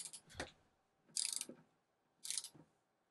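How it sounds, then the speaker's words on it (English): A torque wrench tightens a nut on a cable terminal of an ECO-WORTHY 3000W 12V inverter/charger, giving three quiet ratcheting bursts about a second apart, close up with no talking. "So I'll torque it down."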